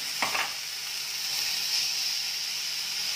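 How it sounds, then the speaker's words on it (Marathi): A sharp burst of sizzling as washed sprouted moth beans hit a hot pan, then a steady, close hiss of steam and frying that carries on. "कढई गरम झाली की जी मटकीची मोडं आपण धुवून घेतलेली आहे ती घालायची"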